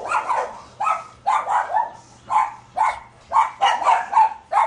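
Dogs bark in repeated bursts, several close, loud woofs in quick succession with short pauses between, no talking over them.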